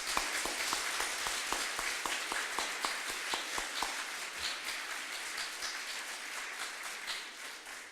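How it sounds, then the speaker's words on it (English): Audience applause for Tammy at a faculty and staff award luncheon and retirement celebration, a dense, steady crowd clapping that holds at even loudness throughout and thins slightly near the end. "One more round of applause for Tammy."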